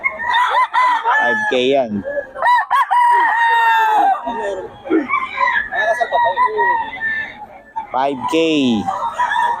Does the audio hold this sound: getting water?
no